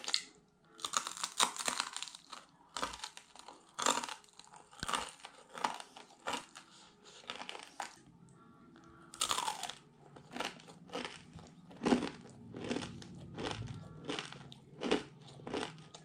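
A crunchy sweet Balinese snack is bitten and chewed up close, with a long series of sharp, crisp crunches at an irregular pace and quiet chewing between bites.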